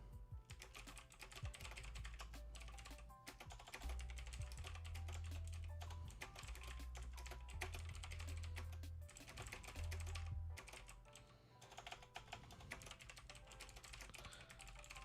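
Steady rapid keyboard typing, near and continuous, tapping out a text message with brief pauses, over a faint low background hum.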